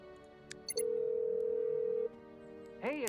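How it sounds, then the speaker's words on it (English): A phone call placed in the Nancy Drew game Mystery of the Seven Keys: quick dialing beeps, then one long steady ringing tone, then a short warbling electronic tone as the line connects. "Alright, let's call Ned."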